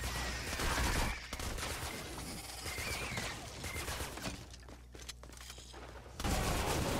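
The Mercury LMG laser gun in Fortnite Save the World fires in long sustained bursts, a dense buzzing, crackling stream of shots with a brief pause and a louder burst near the end.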